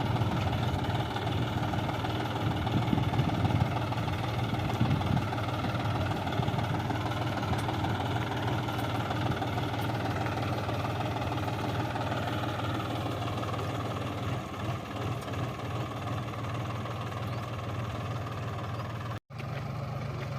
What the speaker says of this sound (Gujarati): ટ્રેક્ટર ધીરું ધીરું આ લેતું જવાનું